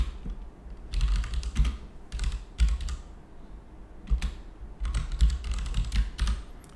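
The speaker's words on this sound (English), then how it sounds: "So let's just type the command right away," Typing a MySQL insert command on a computer keyboard, close, irregular clicking keystrokes in short bursts with brief pauses between groups of keys.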